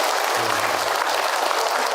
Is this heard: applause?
yes